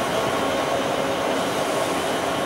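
An Almaty subway train rumbles steadily inside the metro, a dense continuous roar of rolling wheels and carriage noise with a faint tonal whine, ending in a brief sharp click.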